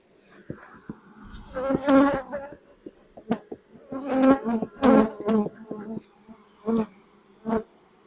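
Close, uneven buzzing of bees on a hive's queen-rearing frame, rising and falling in short bursts, with quieter gaps between louder swells.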